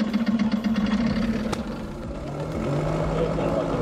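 The number one engine of a small training aircraft starts up at an airfield near Bo Fai, giving a rough, steady mechanical rumble that rises slightly toward the end, with voices faintly underneath.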